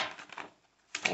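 Tarot cards shuffled by hand in a reading for the sign of Sagittarius, giving soft papery riffles up close, a burst of flutter at the start, a short pause, then another quick riffle at the end.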